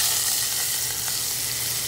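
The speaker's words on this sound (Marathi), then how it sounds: "तर हे व्यवस्थित परतून घेऊया" Garlic, cumin and coriander crushed together sizzle in hot oil as a tempering for dal, a loud, dense, continuous hiss with faint crackles, close up and without voices.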